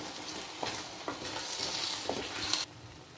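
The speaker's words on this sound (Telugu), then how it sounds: "ఒక స్పూన్ ఒకసారి బాగా కలుపుకున్నాను" A spoon stirring tomato egg curry in a pan over a low sizzle, with a few soft scrapes spread across a steady frying hiss that cuts off near the end.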